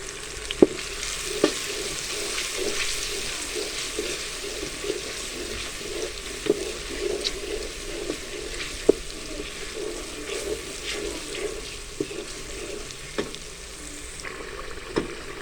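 Onions and spices for daal mash sautéing in a pan, a steady soft sizzle with repeated scraping and clicking of a spoon stirring against the metal.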